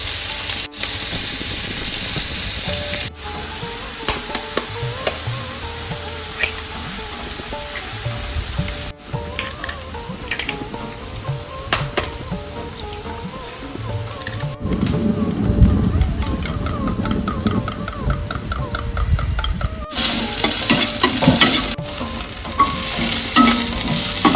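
Onion and green chilli sautéing in four spoons of hot oil for egg bhurji, a steady sizzle with repeated scraping stirs of a spatula in the pan throughout.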